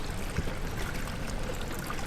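Continuous rain and trickling water in Amnesia: The Dark Descent, a steady, even wash of splashing and dribbling that fills the whole stretch with no pause and no voices.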